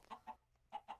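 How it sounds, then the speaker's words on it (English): A chicken in the blocky survival game TerraFirmaCraft clucks in two quick pairs of short, nasal notes separated by a brief pause, close and faint, with no talk. "No, my lovely chicken, don't leave me."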